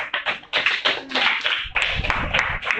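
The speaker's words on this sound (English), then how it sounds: "Let's give a round of applause to our debaters side, and of course, our debaters from the negative side" Audience applause for the debaters at a debate event, a scattered round of hand claps with uneven bursts that rises and falls over a few seconds, fairly close and loud.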